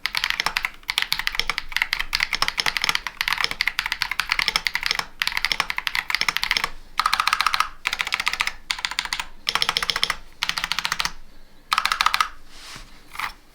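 Fast typing on a KBD67 Lite R4 mechanical keyboard with PBT keycaps makes dense, close, clacky keystrokes in bursts with brief pauses, and a few deeper spacebar thocks come near the end, with no talking.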